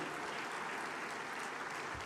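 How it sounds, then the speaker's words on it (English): Audience at the Afreximbank annual meetings conference applauding steadily, a dense wash of clapping that holds level throughout with no voices over it. "Please, another resounding round of applause"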